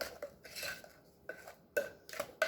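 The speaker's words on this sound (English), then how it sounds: "Get all that cream cheese mixed up with that sugar." Utensil scraping and clinking in a bowl while cream cheese and sugar are stirred together by hand, several short uneven knocks and scrapes close up, no talk.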